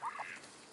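A single duck quacks twice close by, short nasal honks in quick succession, then quiet outdoor ambience.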